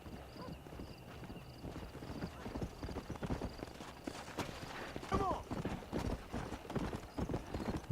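A horse trotting and galloping in the Red Dead Redemption video game, with a steady rhythmic clip-clop of hooves, a short whinny midway, and a voice speaking over it.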